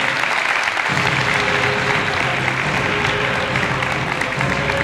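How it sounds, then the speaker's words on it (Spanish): Loud, sustained applause from a crowd at the presentation of the SD Hispania women's team for player María Azorín, a dense steady roar of clapping filling the whole stretch with no voices on top. "Fortísimo aplauso para María Azorín"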